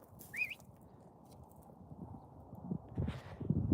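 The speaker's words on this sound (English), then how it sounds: "You guys saw the horse." A horse walks nearby with soft, faint hoof clip-clops on the ground, louder toward the end, with a brief high whistle or bird-like chirp early on.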